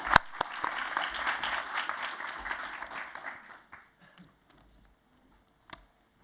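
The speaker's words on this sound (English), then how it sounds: "And you can join me in a round of applause for them." Audience applause at a workshop on nature-positive finance, moderate clapping for about three seconds that thins into a few scattered claps and then quiet.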